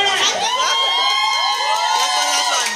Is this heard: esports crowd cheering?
yes